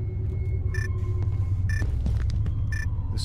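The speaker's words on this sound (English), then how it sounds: "This storm feels endless." Storm thunder in an indie horror video game: a deep, steady low rumble fills the scene, with a few brief chime-like tones and clicks on top and no talking.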